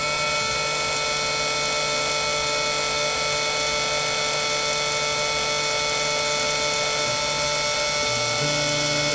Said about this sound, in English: I'm going to click begin milling.